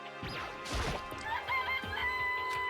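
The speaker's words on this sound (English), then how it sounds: "This place even has chickens, huh?" Chickens in the Danganronpa: Happy Trigger Havoc video game cluck and crow close by, mixed with a thump, a clatter and a background music bed, with no talking.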